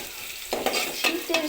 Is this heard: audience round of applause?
no